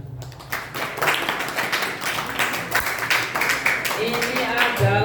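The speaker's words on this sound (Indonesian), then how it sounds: "Tepuk tangan untuk Bani Banat." Audience applause breaks out at an Islamic boarding school (pesantren) opening ceremony, a sustained wash of many hands clapping in a large room, with a voice speaking over it.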